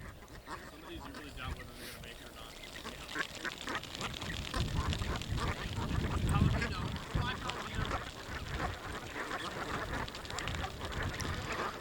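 Brant geese released after banding in Chevak, Alaska, honking and calling in a loose, busy chorus, some close and some farther off, with people talking intermittently over outdoor noise.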